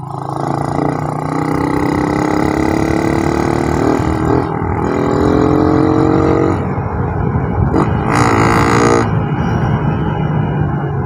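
A Suzuki Raider 150 carbureted motorcycle engine revs up and down repeatedly, its throaty, rasping growl rising in pitch and dropping back, loud and close.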